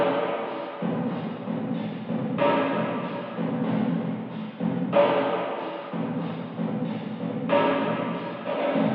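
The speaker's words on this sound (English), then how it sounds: "For the next part of the sample I got like a percussion loop from a free drum kit" Dry percussion loop from a free drum kit with no effects, repeating a steady pattern of soft thumping hits in a regular bar-length cycle, moderately quiet with nothing else over it.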